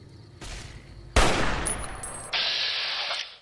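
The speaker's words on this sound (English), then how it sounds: "I just want to shoot you." Gunfire in Fallout: New Vegas: a sharp shot followed by a loud sustained burst of rapid fire and a bright mechanical tail, with no voices.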